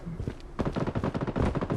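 Rapid bursts of gunfire from the video game Bloodstrike, a dense run of sharp shots in quick succession, close and loud throughout after a short quieter opening.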